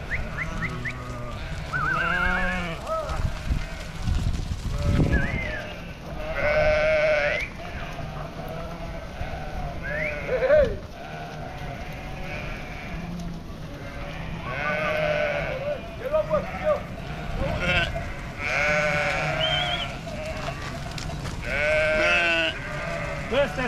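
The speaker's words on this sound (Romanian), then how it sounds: "Astea sunt oile cu mieluțe care le țin" A large flock of sheep and lambs bleats continuously, many overlapping calls near and far, while people talk over the flock throughout.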